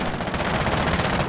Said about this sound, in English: The SMG sounds so fucking mean.